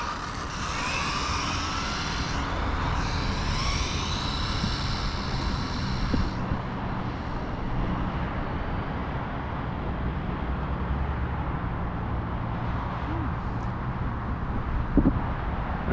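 Rlaarlo AK 917 carbon fiber brushless RC car running full throttle on a 3S battery, a steady loud whine with wind buffeting the microphone throughout, the high pitch fading after a few seconds as the car pulls away.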